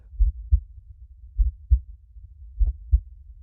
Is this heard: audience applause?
no